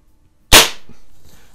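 A single sharp crack from a .177 CO2 pellet pistol, either a Webley Nemesis or an Ampell Acro 1, fired at close range, alone, with a short decaying tail.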